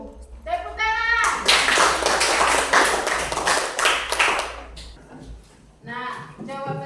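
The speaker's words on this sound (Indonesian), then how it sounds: "Tepuk tangan." Schoolchildren in a classroom burst into a dense round of hand clapping for several seconds, loud and overlapping, with young voices chanting before it starts and again after it fades.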